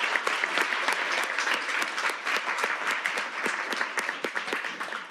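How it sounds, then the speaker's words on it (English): A school board meeting audience breaks into sustained applause for student STEAM ambassadors, with dense, steady clapping filling the room and no pauses. "Let's give our STEAM ambassadors one more big round of applause."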